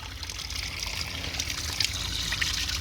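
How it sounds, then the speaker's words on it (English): Warm natural spring water trickles and splashes steadily from a public fountain in Buxton, a Peak District town. The flow is a continuous close hiss with no voices. "this would be natural water where you fill up"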